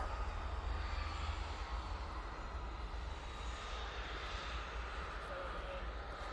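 A passenger airplane's engines roar steadily at Manchester Airport as it takes off toward Tenerife, a continuous broad rumble that holds fairly constant and slowly eases.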